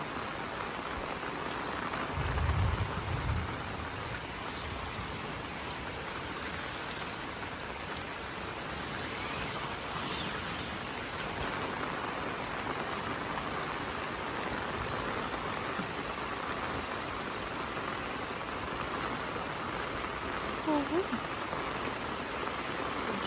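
Heavy rain pours steadily on a garden house in rural Thailand, a dense, continuous hiss of drops hitting surfaces that stays loud and even throughout, with a brief low thump near the start.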